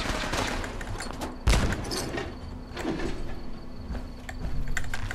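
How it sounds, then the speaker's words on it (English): Gunfire and explosions in Fallout 4: a sharp loud blast followed by scattered distant shots and bangs over a steady background, with no talking. "Sounds like explosions are going off."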